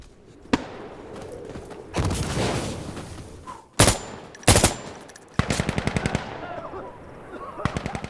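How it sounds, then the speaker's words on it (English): Light machine gun fire in Insurgency: Sandstorm comes in several loud, rapid stuttering bursts spread across the moment, with sharp single shots and brief lulls between them. "I think that was their LMG"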